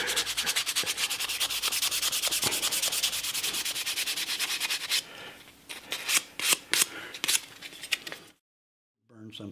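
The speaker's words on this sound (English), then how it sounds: "very, very dry wood, so it sands very nicely" Dry wood being sanded by hand while a wooden letter opener is carved, a steady rapid rasping back-and-forth that runs continuously, then breaks into short separate scuffing strokes before falling silent.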